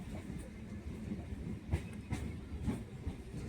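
Train on the Kolkata Circular Railway at Prinsep Ghat station, a steady rolling rumble with rhythmic clickety-clack wheel knocks on the rails, heard close and continuous.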